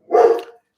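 A pet dog gives a single loud, close bark from indoors, aimed at a mail carrier, ending quickly with no voices over it.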